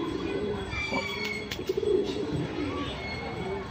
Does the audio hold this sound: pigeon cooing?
yes